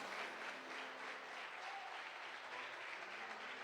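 A church congregation applauds together in sustained, even clapping that fills the room at a steady level throughout, with no speech over it.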